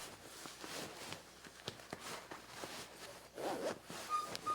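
A zipper on a feather-filled cushion cover is pulled open in a quiet room, a close, steady raspy run of tooth clicks lasting several seconds.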